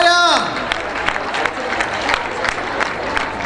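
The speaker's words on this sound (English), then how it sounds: "Let's clap hands for DP's choir." A crowd applauds a choir at a World AIDS Day launch event, with dense clapping and cheering that stays steady for a few seconds after a voice.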